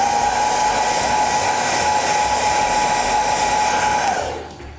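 A dryer blows steadily to dry a tack coat during a leather hole repair, giving a loud, even, close whirring hum that winds down at the end.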